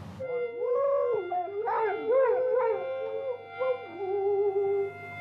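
A basset hound howls close by in long, wavering, rising and falling tones, several drawn-out howls strung together with brief dips between them.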